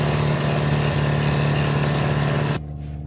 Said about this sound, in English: Our little outboard has been doing an absolutely sterling job.